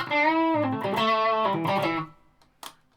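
Arbiter Flying V electric guitar played with light distortion, a few sustained chords ringing loudly for about two seconds before cutting off, followed by a brief faint pick or string noise.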